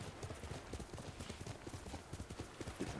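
Rapid clip-clop of horse hooves galloping in the video game Ghost of Tsushima, a steady close rhythm of dull thuds running throughout with game ambience behind.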